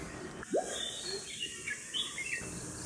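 A chestnut-headed bee-eater calls in the Western Ghats at Banda Sawantwadi: one rising note, then a few faint, high, thin chirps over quiet outdoor background noise.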